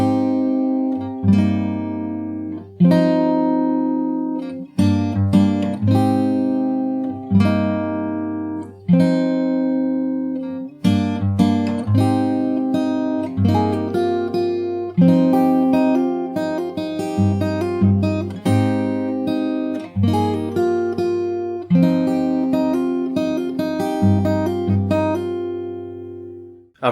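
Fingerstyle acoustic guitar plays the intro to a song, steady plucked bass notes under picked melody and chords, close and clear, continuous for nearly half a minute with brief pauses between phrases.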